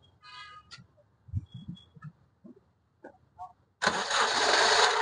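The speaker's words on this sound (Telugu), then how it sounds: "సింగిల్ సెల్ఫ్ లో బండి స్టార్ట్ అవుతుంది సార్." A 2016 Honda BR-V diesel engine cranks and catches at once, then settles into a loud, steady idle close by, after a few quiet clicks and faint sounds.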